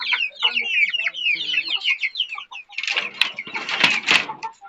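Several chickens cluck and chatter close by in busy overlapping bursts, some calls louder and sharper than others.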